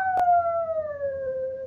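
A dog lets out a single long, tonal howl that slowly slides downward in pitch and holds for nearly two seconds, loud and close, opening with a brief sharp knock.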